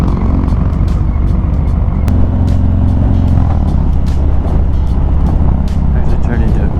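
Cafe racer motorcycle on the move, a loud steady engine drone mixed with heavy wind rush, with someone talking over it.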